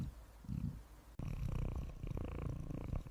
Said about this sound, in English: I purred, waited, never left you alone